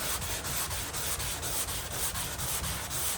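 Body filler on a car body line being sanded by hand, sounding as a quiet, rhythmic rasping of repeated strokes at an even pace, close up with no talking.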